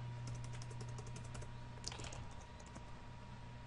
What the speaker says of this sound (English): Let's go ahead and type in the following information.